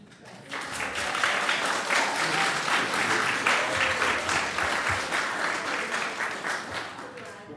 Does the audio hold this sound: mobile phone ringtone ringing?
no